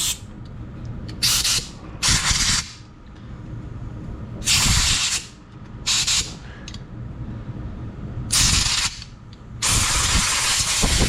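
Compressed air blasts into the carburetor orifices of a Troy-Bilt 190cc lawn mower as loud hissing bursts, about six of them in irregular succession, each lasting roughly a second, with quieter pauses between.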